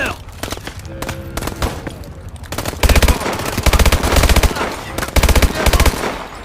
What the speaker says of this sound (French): Mitraillette à 9h!